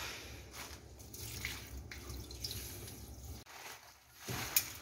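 Warm salt water poured by hand over salted cabbage in a home kitchen for kimchi, a steady splashing trickle running several seconds before stopping abruptly, close and fairly loud with no talking.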